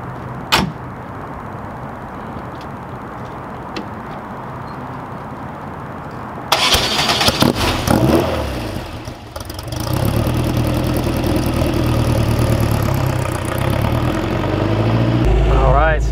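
A Porsche 550 Spyder replica cranks and fires up after a quiet stretch with a few clicks, then settles into a loud, rough, rumbling idle close by, with a brief rev near the end.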